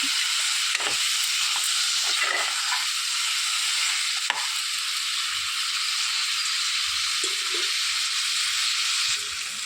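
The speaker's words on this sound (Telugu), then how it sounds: "వంకాయలు అనేవి మగ్గిపోవాలి ఇందులో." Brinjal (eggplant) pieces fry in oil for an Andhra-style vankaya pulusu, giving a steady, loud, close sizzle that runs throughout, with a few soft stirring scrapes and clicks.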